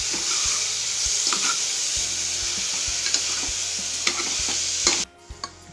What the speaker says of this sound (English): It's preferable to be cooking these onions for at least 4 minutes on medium flame.